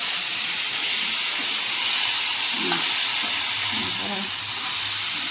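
Chopped vegetables tossed into hot oil with crackled cumin seeds give a loud, steady sizzle and hiss close by, with a few faint stirring noises.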